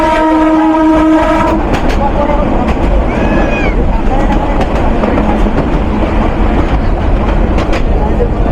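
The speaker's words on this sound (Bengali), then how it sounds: "অবশেষে কয়েক হাজার যাত্রী নিয়ে বাউরা স্টেশন ছেড়ে যাচ্ছে বুড়িমারি কমিউটার।" The Burimari Commuter train pulls out of Baura station carrying thousands of passengers, a loud horn blast opening over the rumble, followed by steady clickety-clack of the cars and brief squeals, close and continuous.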